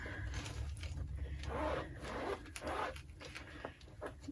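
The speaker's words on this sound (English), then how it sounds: "This zip pocket is very tight." A tiny zipper on a tight pocket of a Coach denim flap chain bag is pulled in short, scratchy strokes, several quick runs close up, with a tight, rasping texture.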